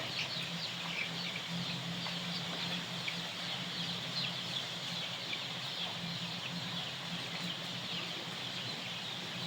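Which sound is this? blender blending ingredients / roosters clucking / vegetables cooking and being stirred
roosters clucking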